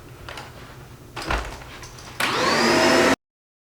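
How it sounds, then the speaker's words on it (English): Vacuum cleaner switched on in a home family room, its steady loud whine starting abruptly after a few soft knocks and handling bumps, then running alone until cut off. "let me get the vacuum this place"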